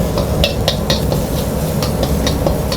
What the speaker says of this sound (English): In the same wok, add your garlic,